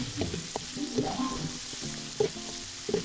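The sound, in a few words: sautéing in oil used to fry tuna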